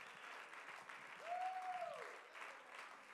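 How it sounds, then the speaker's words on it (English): Faint congregational hand clapping of praise at a midweek church service, a soft, distant wash of many hands with a brief sustained sung or spoken tone rising over it midway. "Somebody give the Lord a hand clap of praise right now"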